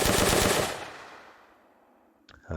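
Gunfire from a Nazi zombies video game built in Unreal Engine: a loud burst of rapid automatic shots that rings out and decays, followed by another sharp burst starting near the end.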